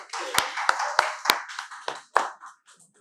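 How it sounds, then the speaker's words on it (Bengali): An audience at a hotel event in Kuakata claps in short, sharp bursts, a few loud individual claps standing out before the applause thins and fades. "ওনার জন্য জোরে হাততালি"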